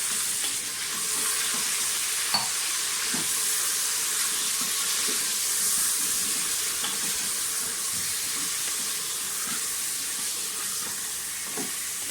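A steady, hissing sizzle of meat with ginger, garlic, green chillies and spices frying in a hot pan for dal gosht, with occasional faint clinks and stirring noises, no talking.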